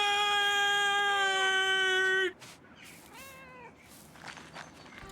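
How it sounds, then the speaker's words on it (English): Cat meowing in the video game Pentiment, a long, loud, tonal meow followed by a softer second meow over quiet ambient background. "It's another cat."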